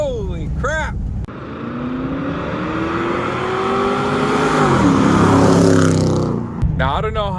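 A Ford Crown Victoria fitted with a cold air intake revs hard and loud, the engine note climbing through a long sustained pull to a peak before cutting off. Excited voices talk briefly just before and after.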